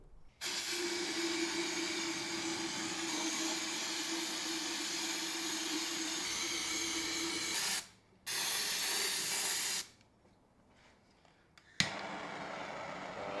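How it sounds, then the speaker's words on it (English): Brake cleaner is sprayed from an aerosol can onto car parts during a BMW E36 differential job, a loud close hiss lasting several seconds, then a shorter burst, a pause and another spray. "I'm going to start hitting it with some brake clean and get it all nice and clean for the welding."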